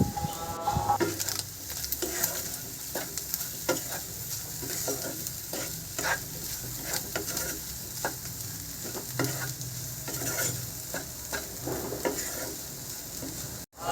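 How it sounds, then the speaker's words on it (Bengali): Carrots, beans and rice for chicken fried rice stirred in a hot pan, a steady sizzle under repeated scraping strokes of the spatula, close and continuous. "সব কিছু একসাথে ভালোভাবে মিশিয়ে নেব।"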